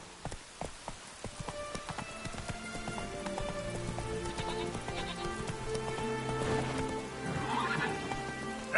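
Horse in the video game The Witcher 3 trotting with clip-clop hooves, then a loud whinny partway through, close and clear with no talking.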